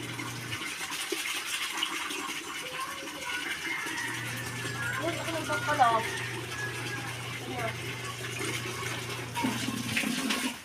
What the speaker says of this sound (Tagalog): Nilalagyan na po ng tubig ang mga timba para po sa pag-aanlawan ng mga winawashing.